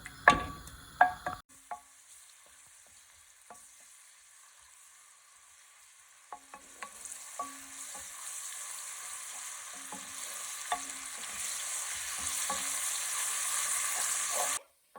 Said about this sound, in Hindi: तो अभी हमने ये प्याज को करना है एकदम जब तक लाल ना हो जाए तब तक